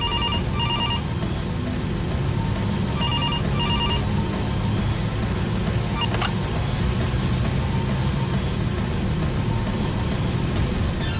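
A telephone rings in repeated short bursts with pauses between them, over a steady low rumble of background noise.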